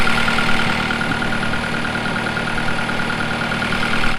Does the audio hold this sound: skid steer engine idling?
yes